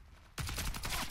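Gunfire in the video game Warface breaks out suddenly as a loud, rapid burst of automatic shots, continuous to the end.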